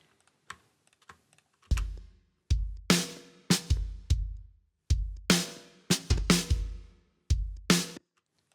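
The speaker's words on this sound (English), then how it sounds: "When I first got the samples that I liked, the actual kick and snare would sound like this" Kick and snare samples from a punk and classic rock drum production play on their own: a few soft ticks first, then a regular groove of booming kicks alternating with bright, ringing snare cracks, each decaying quickly, close and dry without talk.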